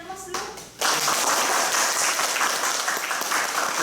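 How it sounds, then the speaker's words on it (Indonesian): Audience at a writing seminar bursts into sustained applause, dense steady clapping that starts abruptly after a brief moment of talk and carries on loudly to the end. "Kita berikan aplaus dulu."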